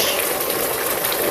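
Blended ingredients pour into a pot of red oil native jollof rice as a steady, loud wet gush and splash, continuous and close with no talk.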